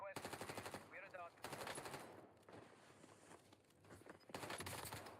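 Rapid automatic gunfire in a first-person shooter game, long bursts of loud close shots broken by short pauses, with faint game voice sounds underneath.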